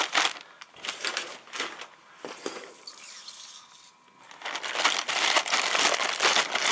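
Translucent plastic bag packaging with blister wrap inside crinkles and crackles as it is opened, bursts of rustling near and fairly loud, easing to a quieter stretch midway before swelling again into dense crinkling.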